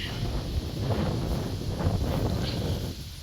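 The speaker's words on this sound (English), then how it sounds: "It's quite breezy out here today." Breezy outdoor wind buffets the microphone in a steady low rumble with gusts rising and falling, loud and close, with no clear voice over it.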